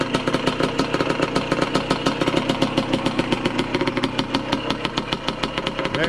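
A loud, cheap used dirt bike engine idles up close, its rapid, even firing pulses steady and unbroken with a rattly mechanical edge and no talk over it.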